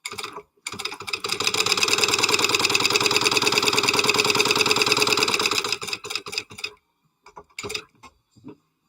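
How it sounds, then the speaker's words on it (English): A sewing machine top stitches a zipper panel closed on a shaker flap for a small bowler bag, running steadily for about five seconds and then stopping and starting in a few short bursts. "is I'm going to top stitch my zipper panel closed"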